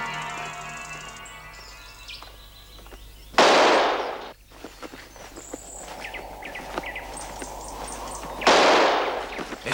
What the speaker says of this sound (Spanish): ¿Estáis oyendo los tiros?